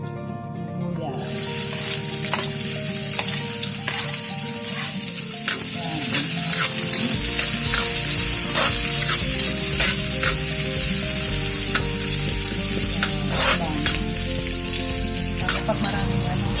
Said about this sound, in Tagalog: Pwede natin ilagay ang sibuyas.